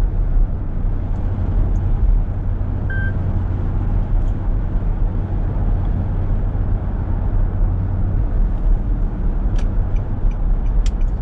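2011 Infiniti QX56 SUV driving on a road, heard from inside the cabin: a steady low engine and road rumble with tire noise, constant and close, with a few faint clicks toward the end.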